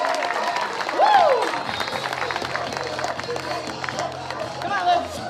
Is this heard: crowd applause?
yes